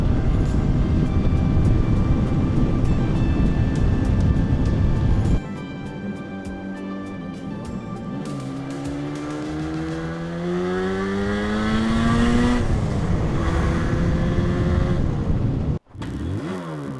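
A two-stroke Moto Guzzi motorcycle engine revs up and down loudly, its pitch sweeping upward through several throttle bursts, with a brief cut near the end, no talking.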